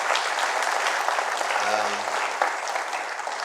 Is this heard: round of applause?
yes